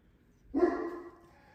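A single drawn-out dog bark or yelp, fairly close, rising sharply then fading over about a second in a quiet room.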